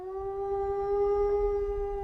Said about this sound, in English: Even rangers reported howls so deep they felt them in their chest.